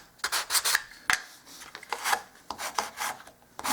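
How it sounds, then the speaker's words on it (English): Repeated scratchy rasping strokes of a sanding block rubbing across the edges of a painted wooden table, close and fairly loud, in an uneven back-and-forth rhythm. "So this is just a sanding block."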